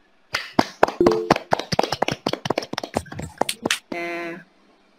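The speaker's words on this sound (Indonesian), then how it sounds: "Kita beri tepuk tangan atau aplaus untuk Tifa." A small classroom group claps for a student's presentation, a short run of sharp, sparse individual claps that fade out, followed by a brief sustained tone near the end.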